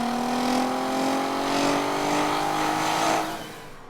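A VW Golf R32 with its 3.2-litre V6 accelerates hard, the engine note climbing steadily through the revs in a loud, smooth pull that then eases off, heard close up with no talking.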